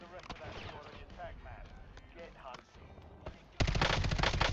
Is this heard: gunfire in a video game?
yes